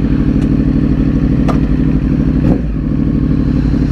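A 2009 Yamaha R1's exhaust rumbles in a tunnel, a loud, low, continuous throbbing engine note with a few sharp clicks and clatters standing out, echoing close by.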